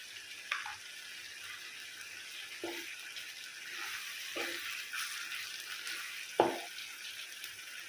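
Masala paste frying for a mushroom and drumstick curry gives a constant low sizzle, broken by several soft stirring scrapes and one sharper knock of a spoon against the pan.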